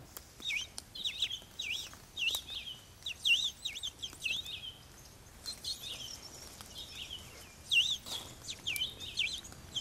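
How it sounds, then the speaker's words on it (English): Goldfinches sing outdoors in a steady stream of high, twittering chirps and short warbled phrases, moderately distant and layered over a soft background hiss. "even right now, like I can hear the goldfinches singing."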